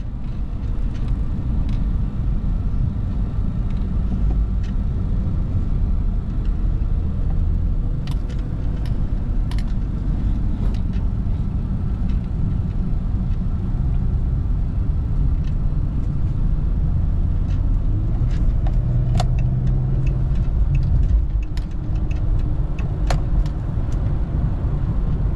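Low steady rumble of a pickup truck driving down the road, heard from inside as a continuous engine and road drone with a few faint clicks and rattles, no talk.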